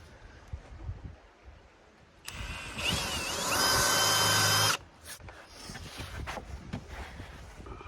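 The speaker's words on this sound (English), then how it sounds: "all I'm doing is countersinking this about yay big. Using a Forstner bit so it's flat" A power drill with a Forstner bit countersinks into wood for beach stairs outdoors, heard as one loud, close whine for about two seconds between quieter handling rustles and outdoor background.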